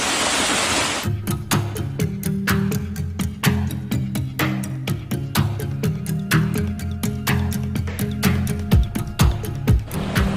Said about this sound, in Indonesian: Ini aliran air yang mengalir di daerah air terjun Pumbunga ini